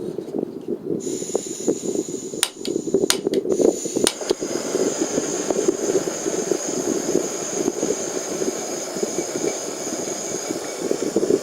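A Jetboil camping stove burns after ignition with a steady, loud jet-like roar close up, preceded by a few sharp clicks and knocks near the start, continuous for the rest.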